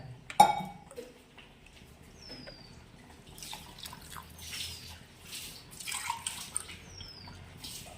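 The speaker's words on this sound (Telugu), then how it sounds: "దీంట్లో వాటర్ పోస్తాను." Water poured into a drinking glass, a faint splashing trickle with a light clink at the start and soft drips, quiet and close with no talking.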